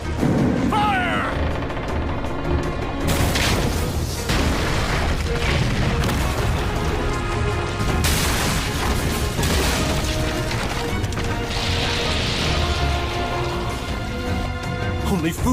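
A siege catapult firing and its ammunition crashing in a battle scene, heavy booming impacts and crashes over a dense, continuous loud din with scattered voices.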